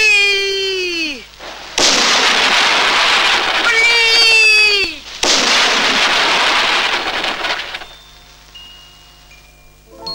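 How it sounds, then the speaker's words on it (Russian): A weather cannon firing at clouds: falling whistling tones, then two long, loud roaring blasts close by, with a short gap between them. "это метеорологическая пушка. Мы сейчас из нее тучки над библиотекой будем расстреливать."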